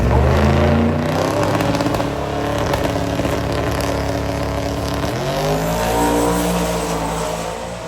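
A heavy metal category drag race car makes its run, its engine a loud, continuous roaring drone that shifts pitch partway through and stays strong to the end.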